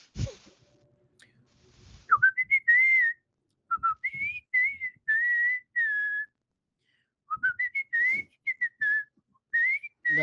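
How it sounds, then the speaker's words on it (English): A person whistles a tune in short melodic bursts, rising and falling notes grouped in phrases with brief silent gaps between them, clear and close. "Bro finally found out how to whistle."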